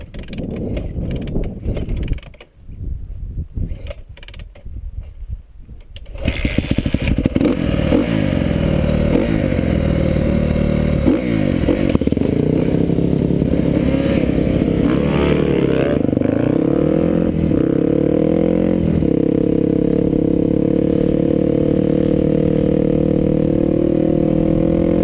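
A motorcycle engine with an idle set too low. Clattering and scraping come first, then the engine catches and runs close and loud, its droning tone rising and falling slightly as the throttle is cracked.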